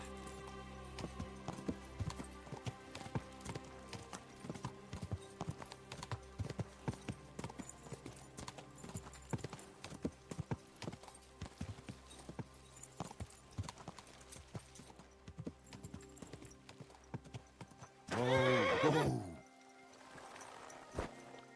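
Hooves clip-clop steadily at a brisk pace in the video game Kingdom Come: Deliverance 2, followed by a short horse whinny near the end, fairly quiet throughout.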